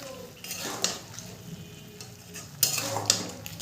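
Ground poppy seed paste is stirred into bottle gourd greens with potato and stems in a pan, making soft intermittent scraping and metal clinks against the pot under a faint simmer.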